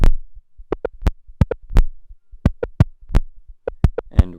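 Sharp, sparse drum hits are passed through a feedback delay, the repeats landing in an irregular, echoing pattern with silent gaps between hits, loud and alone.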